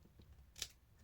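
Scissors make a single quick, faint snip trimming the end of a piece of paper, a brief crisp cut in a quiet room.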